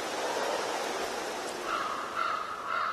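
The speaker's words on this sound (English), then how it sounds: "A passing breeze that indicates a weather change." Soft, steady broadband rustle of air moving through the surroundings, with a faint higher whistling tone emerging midway, no voices.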